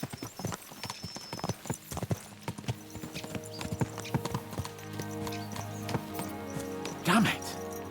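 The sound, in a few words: horse hooves clip-clopping in the video game Kingdom Come: Deliverance II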